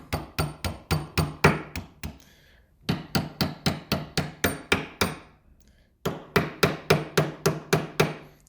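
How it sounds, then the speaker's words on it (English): A hammer taps a roll pin into an AR15 bolt in three quick runs of sharp metallic strikes, about eight to ten evenly spaced blows each, separated by brief pauses. The taps are close and clear. "right now I'm just using the hammer on the roll pin just to get it in"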